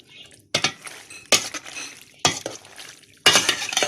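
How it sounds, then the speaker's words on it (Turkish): Peruhi manti tossed with oil in a pan, stirred in four distinct bursts of scraping and clinking utensil against metal, close and fairly loud, with short quiet pauses between strokes. "Karıştıralım yağın her tarafını."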